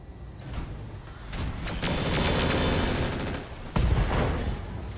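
Missile salvos and an LRM ammunition explosion in the RogueTech mech game rumble as a dense, rolling barrage of booms, building to a sustained roar with a sharp fresh blast near the end.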